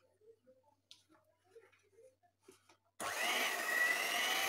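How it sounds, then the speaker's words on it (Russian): An electric mixer starts up and beats thick chocolate cake batter on low speed, a steady loud whirring that cuts in after a few seconds of quiet kitchen clatter. "Сейчас я это все хорошенько собью миксером"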